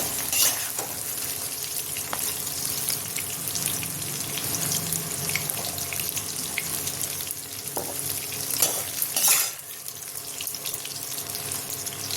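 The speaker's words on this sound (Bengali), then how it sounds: "ছোলা ভাজতে খুব সময় লাগে না, দেখুন হয়ে গেছে।" Chickpeas frying in a pan with steady crackling sizzle, broken by scraping stirs and a couple of louder clatters, close and continuous throughout.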